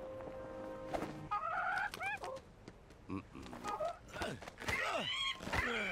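Cartoonish clucking and squawking bird calls in quick, irregular bursts from a Lego Star Wars video game, mixed with thumps and other game sound effects at moderate volume.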